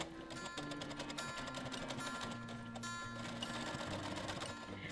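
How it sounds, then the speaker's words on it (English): A close sewing machine stitches continuously around the curve of a Bali-inspired boho bag, its fast rhythmic needle clatter shifting slightly in speed as it runs. "just take your time on going around this curve"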